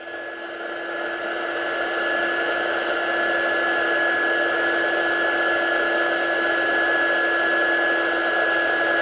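Heat tool heat-setting embossing powder, a steady loud blowing whine with a constant pitch, running without a break, close up and alone.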